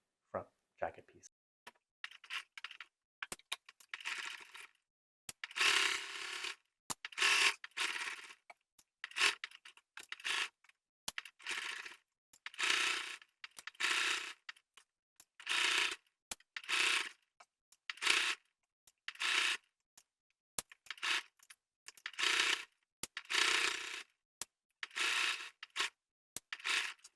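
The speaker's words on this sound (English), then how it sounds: "So now I'm just going to edge stitch along the sides, bottom, and up the side again for both sides of my front jacket piece." A sewing machine edge stitching along the sides and bottom of a jacket front piece, heard as many short, rhythmic bursts of quick mechanical whirring and clicking with brief stops between them, close and moderately quiet.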